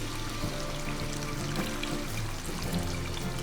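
Water measured out for chana pulao is poured into a pot of rice, a steady close trickle and stream running continuously without any talk.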